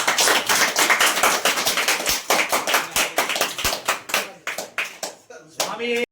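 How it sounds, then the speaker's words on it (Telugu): A group of people clap together at home on New Year's Eve, with crisp, close hand claps at a brisk pace that gradually thin out and turn sparser toward the end. "అందరూ కూడా ఒకసారి క్లాప్స్ కొట్టండి"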